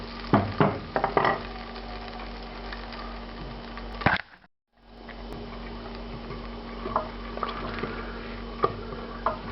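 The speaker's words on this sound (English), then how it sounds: "Add cumin seeds to this, about half a teaspoon. I'm going to cook these for just maybe 45 seconds" About half a teaspoon of cumin seeds frying in a hot pan as the base for chana masala, with a steady close sizzle and crackle, sharp stirring clicks, and one brief dropout midway.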